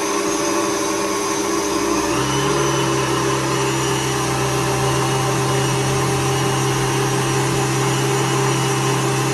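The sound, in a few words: electric mixer whipping liquid cream into chantilly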